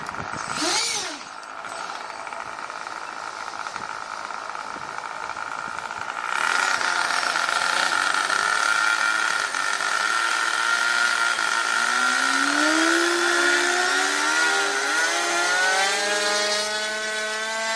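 A small nitro-fuelled model plane engine whines loudly and continuously, jumping to a higher, harsher pitch partway through and then sweeping up and down as it revs.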